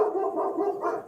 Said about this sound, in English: That dog is sounding off for society.